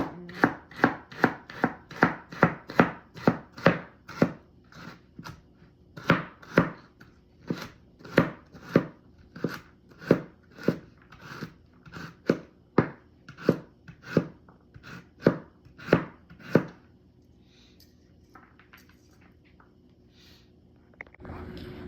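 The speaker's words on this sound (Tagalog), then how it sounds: "hihiwain lang natin na maliliit ang carrots" Carrots being chopped into small pieces with a knife on a cutting board, rapid even knocks at first, then a slower steady run of sharp close chops that stops about three quarters through, leaving faint room sound.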